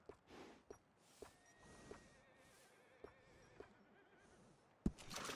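A horse in Red Dead Redemption 2 gives a long, wavering whinny over scattered hoof clops, ending with a sharp loud thump, with no one talking.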